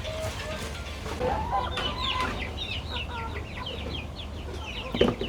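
Several chickens, including game fowl and crossbred native chickens, cluck and chatter nearby in short repeated calls over a steady low background hum, with a louder clatter near the end.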